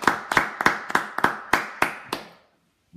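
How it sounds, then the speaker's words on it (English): Hand clapping at a church gathering, about eight sharp, evenly spaced claps close to the microphone, then a brief silence. "So let's give a round of applause to Kate."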